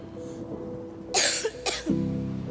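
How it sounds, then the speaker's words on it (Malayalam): A person coughs harshly several times in quick succession indoors, close and loud, with a short pause between two heavy bursts, followed by a low hum. "കേട്ടില്ലേ ചുമക്കുന്ന ശബ്ദം"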